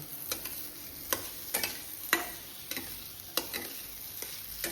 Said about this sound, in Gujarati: બરાબર બધું બરાબર મિક્સ કરી નાખવાનું છે. ખાંડ ને રવો ને બધું એક સરખું મિક્સ થઈ જાય.